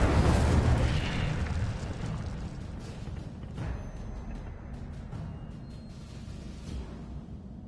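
A fire spell erupts in a Harry Potter video game, a loud whooshing blast at the start that settles into a rumbling, crackling roar with scattered smaller bursts, no voices over it.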